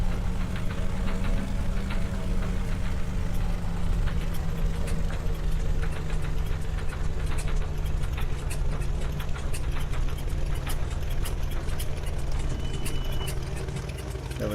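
Bonanza F33 light aircraft piston engine running at a steady drone, continuous and fairly loud with a rough, throbbing low rumble and faint ticking overtones, nobody talking.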